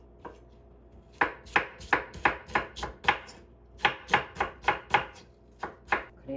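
A kitchen knife chops baby napa cabbage on a cutting board for water kimchi. The sharp, close chops fall in quick, steady bursts of about a dozen and a half, with brief pauses between runs.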